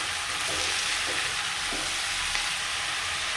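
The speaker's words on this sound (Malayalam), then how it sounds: "കുറച്ച് ഉപ്പിട്ടു, അതൊന്ന് വഴറ്റിയെടുക്കാം." A loud, continuous hiss and sizzle come from onions and spices sautéing with salt in a pan for a country-style chicken curry, steady and close with faint stirring and no talking.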